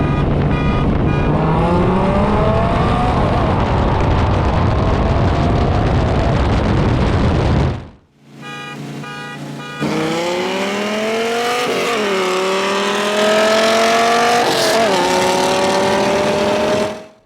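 A Dodge Viper with an 8-liter V10 and a free-flowing exhaust races a Shelby in a roll race from 30 mph. Loud engine roars climb in pitch through two hard pulls, with gear-change dips, separated by a short lull.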